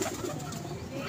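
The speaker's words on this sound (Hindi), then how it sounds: "पकड़ लिया दोस्तों, पकड़ लिया कबूतर हमने।" A pet pigeon coos softly and continuously over a steady background hum, with no clear breaks in the low murmuring call.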